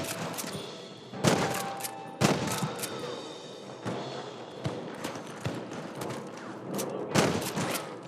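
Gunfire in the Red Dead Redemption video game: a string of sharp, separate shots spaced a second or so apart over several seconds, some louder and closer, with scattered clatter from the game scene between them.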